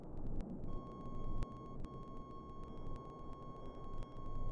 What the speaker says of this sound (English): Our backup beeper sends Wanderspawns into Berserker Rage.